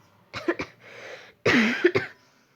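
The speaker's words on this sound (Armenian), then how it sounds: "կներեք իմ հազի համար" A few harsh coughs, close to the mic, a short burst, a pause, then a louder longer pair of coughs.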